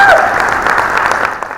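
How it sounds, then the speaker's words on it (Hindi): Loud, dense applause from an audience at a coaching academy event honouring a student ranked AIR 16 in the NIMCET MCA entrance, clapping steadily throughout with a brief voice at the start. "एक बार जोरदार तालियां अजय मौर्य के लिए"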